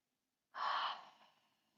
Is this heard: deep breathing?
yes